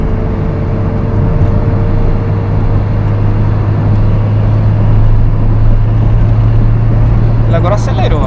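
A motorcycle accelerates steadily on a highway, its engine drone loud and continuous with strong wind rush, while someone talks over it throughout.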